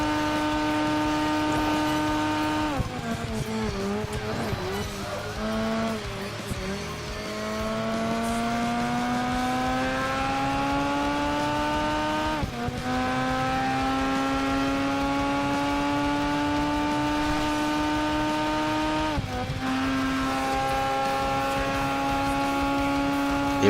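Race car engines in a Project Gotham Racing 4 street race, a continuous droning whine climbing steadily in pitch through the gears, with brief dips at each shift, loud and close with no talking.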